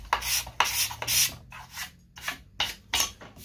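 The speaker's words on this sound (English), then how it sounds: "card scrape before sanding." A steel card scraper is pushed across walnut in about seven quick, rhythmic strokes, each a close, raspy scrape with short pauses between them.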